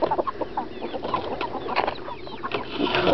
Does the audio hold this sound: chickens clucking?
yes